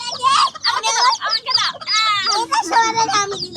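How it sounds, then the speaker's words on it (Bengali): A hen of an unusual colour clucks repeatedly at close range, with short rising calls and chirps mixed in, partly overlapping a voice. "এটা হচ্ছে অনেক ইউনিক কালারের একটা মুরগি।"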